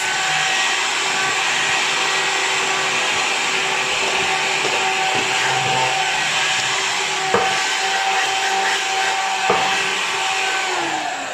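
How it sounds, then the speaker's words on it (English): A small desk hoover used as a nail dust collector runs as a loud, steady whine close by for the whole stretch, with a couple of faint knocks as it is moved; no voices. "This is my desk hoover, and I simply do this."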